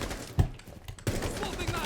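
Gunfire in Rainbow Six Siege comes as several sharp, punchy shots spread over two seconds, some separated by brief gaps, close and fairly loud against a busy game background.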